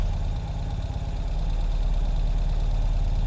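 A 2020 Ural Gear Up sidecar motorcycle rolls in reverse, its engine idling steadily with a low, even, pulsing throb and faint mechanical knocking, close and continuous with no talk.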